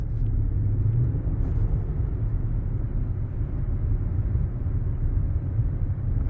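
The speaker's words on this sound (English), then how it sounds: "I can hear the turbos again." Steady road rumble from a car cruising along, with a continuous low drone and a faint high turbocharger whine running through it the whole time.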